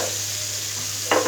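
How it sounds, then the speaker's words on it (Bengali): Finely chopped onion sizzling in oil with a steady hiss and a low hum beneath, then a short scrape of stirring at the end. "এবার এটাকে ভালো করে ভেজে নেব পেঁয়াজটাকে"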